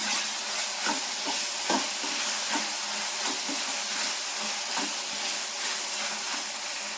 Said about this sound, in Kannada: ಎರಡರಿಂದ 3 ನಿಮಿಷ ಚೆನ್ನಾಗಿ ಎಣ್ಣೆ ಫ್ರೈ ಮಾಡ್ಕೊತಾ ಇದ್ದೀನಿ.